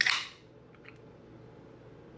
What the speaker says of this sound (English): you just want to crack your soda open.